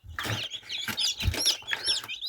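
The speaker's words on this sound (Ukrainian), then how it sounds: "Ось наші курчатка." Newly hatched chicks in a foam incubator, a close cluster of bright, high peeping chirps in quick irregular bursts, several overlapping, with no talk.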